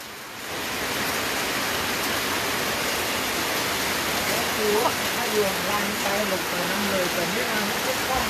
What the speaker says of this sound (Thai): ฝนก็ตกมาเรื่อย